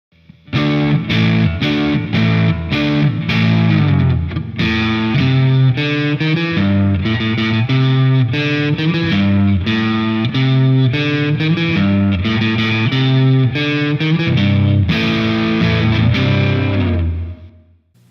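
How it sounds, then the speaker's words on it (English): A 2005 Jimmy Page Number One Gibson Les Paul Custom plays a busy riff on its split-coil neck pickup with heavy distortion, loud and alone, with quick chords and picked notes held nearly nonstop. "Let's hear the neck dirty with the split coil."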